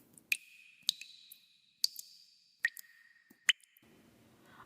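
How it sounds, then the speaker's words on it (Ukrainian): Water drips in five or six clear, resonant plinks spaced about a second apart, each one ringing on with a short pitched tone in an otherwise quiet setting. "давайте разом послухаємо голос води"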